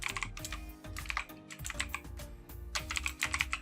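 Rapid typing on a computer keyboard on a Windows 10 PC, dense clusters of close, crisp key clicks in quick bursts with brief pauses, no talking.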